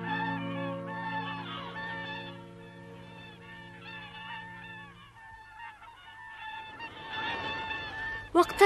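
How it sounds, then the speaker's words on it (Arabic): Wild swans call with a honking, goose-like quality fairly close. The calls are drawn out and layered over one another, swelling louder toward the end. "واقتربت الطيور"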